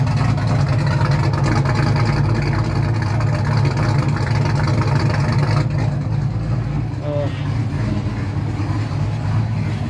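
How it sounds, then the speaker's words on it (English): A Dodge Challenger with a Texas Speed Stage 3 cam runs steadily close by, with a deep, rumbling idle and a loping low-end throb that stays constant for about ten seconds with no revving. "this is actually how it sounds with the Texas Speed Stage 3 cam."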